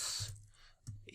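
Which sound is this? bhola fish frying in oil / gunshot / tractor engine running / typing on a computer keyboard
typing on a computer keyboard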